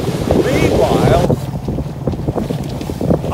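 Sailboat motoring under engine into a headwind off the English coast, heavy wind buffeting the microphone over water rush and a steady low engine drone, with the sound easing briefly partway through.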